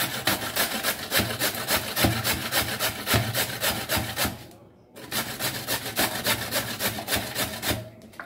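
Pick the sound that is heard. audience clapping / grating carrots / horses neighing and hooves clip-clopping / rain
grating carrots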